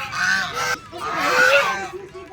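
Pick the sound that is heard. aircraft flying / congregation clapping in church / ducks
ducks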